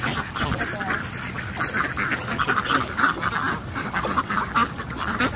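Ducks and geese being fed in William Land Park in Sacramento give off busy, overlapping quacks and honks nearby, with a person talking over the flock.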